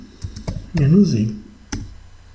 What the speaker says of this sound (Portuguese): vou abrir um terminal e vou digitar Oracle ASM configure-i